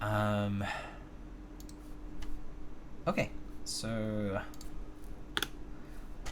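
Scattered clicks from an NK Classic TKL Hatsune Miku Edition mechanical keyboard sound mostly under a person's speech, with a few sharp keystrokes audible between the words.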